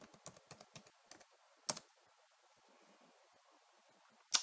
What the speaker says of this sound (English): Enter our password.